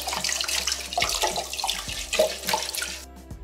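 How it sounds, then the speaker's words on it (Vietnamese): Sweet potatoes being washed and scrubbed clean of dirt in water, with steady running and splashing water plus rubbing and knocking sounds close by, ending abruptly. "Khoai này thì mình đem vô rồi mình rửa cho nó thật là sạch đất nha."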